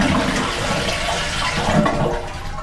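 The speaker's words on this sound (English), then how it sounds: "I want to flush the toilet" A toilet tank flushes with a loud, steady rush and swirl of water, heard up close and continuing evenly without talk.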